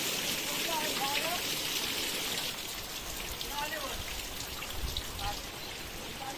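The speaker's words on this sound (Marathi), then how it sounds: "ऊन पण पडलंय जोरात, पाऊस पण पडतोय." Rain falls steadily during a sunny spell over a garden in July, making a constant broadband patter. A few faint chirps come through now and then.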